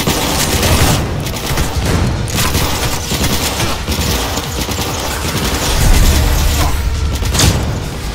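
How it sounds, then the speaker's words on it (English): Loud, continuous firefight in Cyberpunk 2077, overlapping shots and thuds blending into a thick, unbroken wall of combat noise for several seconds. "Everybody's standing and shooting all weird"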